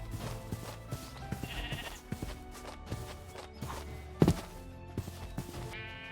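Sheep in RLCraft, the modded Minecraft world, bleating among soft blocky footsteps and clicks, with a few short bleats standing out over quiet game background sounds.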